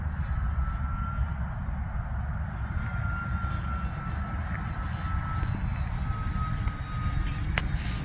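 An E-flite SR-71 Blackbird radio-controlled model jet in flight, giving a continuous loud rushing, whining roar that holds steady throughout.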